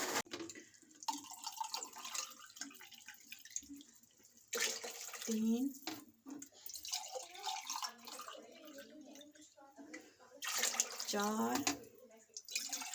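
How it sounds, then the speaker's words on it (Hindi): Water poured from a measuring cup into a cooking pot while making qeema matar pulao, in several separate splashing pours with pauses between them, while a woman counts aloud. "और बाकी का मैं पानी ऐड कर दूंगी।"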